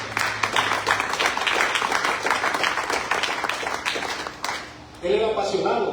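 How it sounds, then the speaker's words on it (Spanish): A church congregation applauding, a loud run of many hands clapping that thins and fades near the end, after which a voice begins speaking. "Un aplauso para Él"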